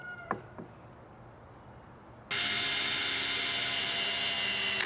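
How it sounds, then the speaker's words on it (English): A power driver sinks a screw through a 2x4 into a 4x4 with a sudden, loud, steady whine that starts after a couple of small knocks and faint handling sounds and runs unbroken to the end. "Screw that into place."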